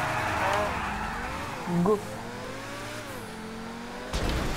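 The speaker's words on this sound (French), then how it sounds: "Faites patiner les pneus, par contre." Game cars spin their tires at a race start, giving a revving engine drone with tire squeal and skids, plus short louder bursts; a person speaks briefly over it.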